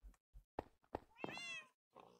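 Cats in a Minecraft cat café meow several times in short, close calls, one drawn-out, faint overall with gaps of quiet between them.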